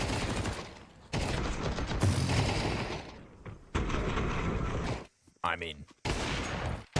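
Rapid MP9 submachine gun fire in Counter-Strike at a BLAST Open Lisbon esports match, heard as dense, loud bursts with brief pauses and a short spoken aside.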